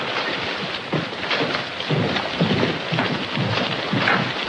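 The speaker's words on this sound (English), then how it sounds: "that depends on how long the storm lasts" A storm brings steady rain with low rumbling thunder, heard as a dense wash of rainfall over deep rolling rumbles in an old 1939 western film soundtrack.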